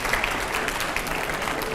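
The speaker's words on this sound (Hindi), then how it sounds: "तालियां, जोर से तालियां हो भाई" Applause from an audience at an Indian televised political debate or interview on Savarkar, a dense, steady burst of clapping lasting under two seconds with no speech over it.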